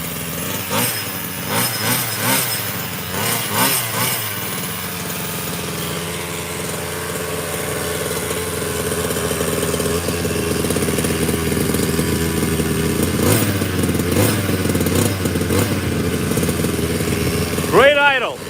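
A Redcat Rampage XR gas-powered RC rally car idles with a steady, buzzy small-engine drone, close and fairly loud, while people talk over it early on and a brief rising whine comes near the end.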